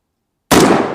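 A single gunshot fired at a Level 4 body armor plate: silence, then one sharp, loud, close blast at the half-second mark that rings out and decays briefly, with no voices.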